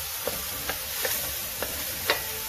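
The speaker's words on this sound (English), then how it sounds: "Fry the garlic." Garlic sizzling lightly in a hot pan for a steamed daikon savoury cake, a steady quiet frying hiss broken by a few soft stirring clicks spaced through the moment, no voices.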